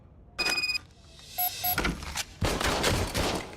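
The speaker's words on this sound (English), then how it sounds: "I was issued this old gun and serviced it according to the manual. I will try it out." A handful of sharp gunshots from an old, manually serviced issued service pistol in a Robocop video game, spaced irregularly with short mechanical clicks between, fairly quiet and without voices.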